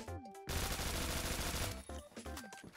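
Honey Badger rifle fire in Phantom Forces, a close, rapid sustained automatic burst of about a second and a half, bracketed by a few short bursts and clicks.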